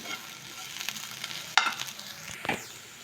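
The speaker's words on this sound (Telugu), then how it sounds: "కారం వేసుకొని కలుపుకోవాలి ఇలా మళ్ళీ ఒక ఫైవ్ మినిట్స్ ఫ్రై చేసుకోవాలి" Potatoes for an aloo fry sizzle in a pan after a spoonful of chili powder goes in, a steady crackling fry broken by sharp scraping stirs of the spoon, close and fairly quiet, with no talking.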